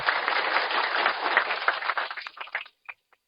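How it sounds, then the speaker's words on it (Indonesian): A crowd at a police community outreach gathering at an Islamic boarding school breaks into dense, steady applause that thins out and fades into a few scattered final claps. "Tepuk tangan dulu."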